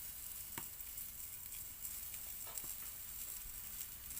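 Chutney ingredients dry roast in a hot pan with no oil, giving a faint, steady sizzle with occasional soft ticks and scrapes as they are stirred, alone without talk.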